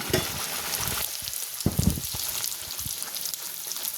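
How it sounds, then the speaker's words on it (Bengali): Kachori fries in hot oil, a bubbling crackle with a few louder spluttering bursts and soft utensil knocks, close up and without speech. "এবার আমি এটাকে ভেজে নেব।"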